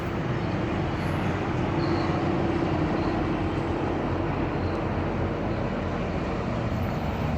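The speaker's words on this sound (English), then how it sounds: "looks like we got the GO train" A GO commuter train rolls past on the railway tracks in Guelph, Ontario, a steady, loud, continuous rumble of wheels and cars that holds evenly from start to finish with no voices.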